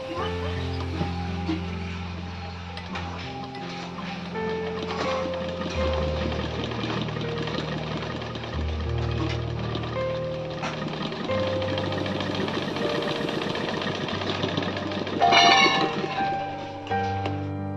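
A faulty sewing machine runs and stitches, its thread bunching into small lumps, giving a steady, fairly loud mechanical whirr with a humming, droning undertone that continues without a break.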